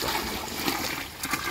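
Water from soaked dates is poured into a livestock feed mix of soybean and powder, a close, continuous splashing trickle with small splatters throughout.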